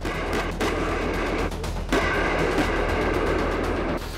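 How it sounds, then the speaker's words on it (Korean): Tank main guns firing shells during a platoon live-fire training exercise, heard as dense, continuous rumbling gunfire and booms that stay loud throughout with brief dips, no talk. "전차가 기동 시에도 신속 정확하게 포탄을 자동으로 장전, 사격할 수 있고"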